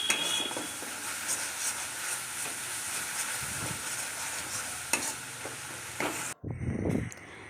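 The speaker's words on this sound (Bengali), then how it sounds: "এবার আমার ভালো করে পুরটা ভালো করে নাড়াচাড়া করে নিচ্ছি।" A kheer filling for dudh puli is stirred in a pan, with a steady sizzle and repeated scraping strokes and a few sharp clinks of utensil against metal before a sudden drop to quieter handling noises.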